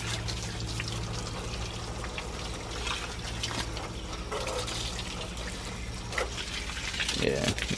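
Tap water runs steadily as it rinses a K&N air filter during cleaning. The flow is continuous, with splashing and pouring that swells slightly toward the end.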